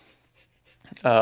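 A dog panting on the floor close by, soft rapid breaths that fade in and out before a person starts talking loudly over them.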